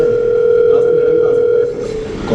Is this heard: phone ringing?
yes